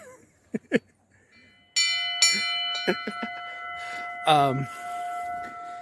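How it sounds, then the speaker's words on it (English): A trail bell in Nikko National Park struck to scare off bears, ringing out after a few footsteps with a sustained metallic tone, then struck again several times, the strokes overlapping into a long decaying hum. "they added a bell to ring to scare off bears"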